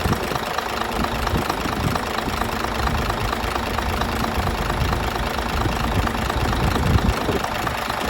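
A 240 PS Isuzu Forward truck engine runs steadily at idle, a loud, continuous mid-to-low rumble with a slight knocking texture and no talk over it.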